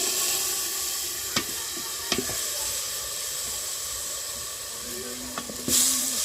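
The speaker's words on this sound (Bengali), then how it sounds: "এই যে তেলানি হয়ে গেছে এখন আলু ঢেলে দিচ্ছে" Potatoes tipped into hot oil in a village kitchen set off a steady, close sizzling hiss that runs throughout, with a few sharp clinks and scrapes near the end.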